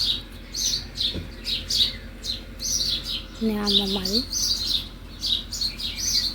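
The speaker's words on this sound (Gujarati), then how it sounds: "મસ્ત મજાના ચકલા પણ બોલી રહ્યા છે સવાર સવાર" Sparrows chirp in the early morning outside an open door on a village street, their repeated bright calls continuing throughout while a person talks nearby.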